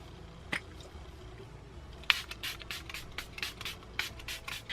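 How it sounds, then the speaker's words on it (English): Quick hissing spritzes of a Milani Make It Last setting spray bottle misting a face, about a dozen short bursts in an uneven rhythm, close and soft. "I'm going to go ahead and set everything with the Milani Make It Last setting spray"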